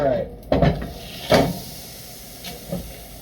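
Meat searing in a hot cast iron pan gives short, loud bursts of hiss and spatter, three or four separated by quieter gaps, close by in a home kitchen.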